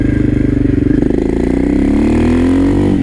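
A KTM 660 SMC single-cylinder motorcycle engine throbs loudly up close, its rapid pulses rising in pitch as it accelerates over a few seconds.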